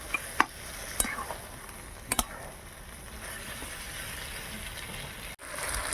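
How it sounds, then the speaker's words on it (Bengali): Potatoes and soybean chunks stir-fry with Kashmiri chili powder in a home kitchen. A soft, continuous sizzle runs under several sharp spatula clacks and scrapes against the pan, with no talking. "কাশ্মীরি লঙ্কার গুঁড়ো দিয়ে দিলাম। ভালো করে কষে নিচ্ছি।"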